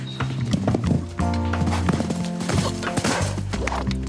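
A young Cantal foal's hooves thud and clatter on the ground in quick irregular beats as it jumps, close and clear, with music playing underneath.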